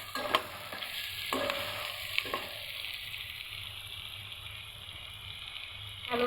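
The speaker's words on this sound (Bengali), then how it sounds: "পেঁয়াজ আলু রসুন ভালো করে ভেজে নিচ্ছি।" Onion, potato and garlic fry in oil inside a steel pot, giving a soft, steady sizzle with a few quiet stirring scrapes near the start.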